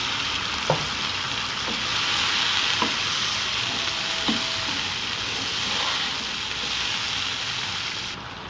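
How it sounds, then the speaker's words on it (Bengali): Garlic frying in oil in a pan, a steady, dense sizzle that runs throughout, with a few soft stirring clicks and taps. No voices. "দেখেন কত সুন্দর করে ভাজা ভাজা করে নিয়েছি"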